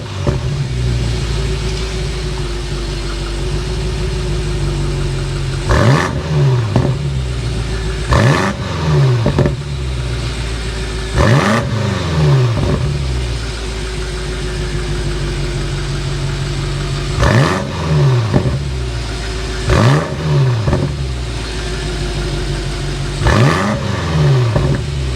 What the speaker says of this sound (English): The exhaust note that you get out of the BMW M5 competition, because of the M Sport exhaust